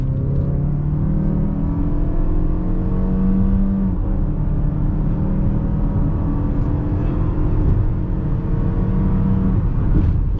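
A 2.5-liter four-cylinder engine in a 2023 Mazda CX-5 gives a steady, loud growl from inside the cabin while driving, its pitch rising and falling slightly with the throttle, with no talk over it.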